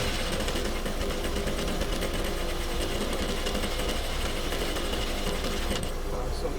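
A sewing machine set to tension 5 runs steadily while gathering fabric for a jumbo jumpsuit, a continuous close mechanical whir with a rapid stitching texture that holds at an even level throughout.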